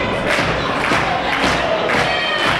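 A wrestling crowd cheers loudly and close, a continuous roar of voices with rhythmic thuds and shouted bursts rising and falling over a few seconds.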